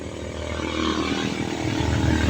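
A repaired motorcycle starter motor being test-run, giving a loud, continuous buzzing whir that holds steady for the whole stretch without a break.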